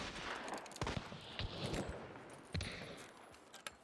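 Distant gunfire rings out in the video game Hunt: Showdown, a scattered fusillade of faint shots and short bursts cracking at irregular intervals over a low ambient wash, with no talk.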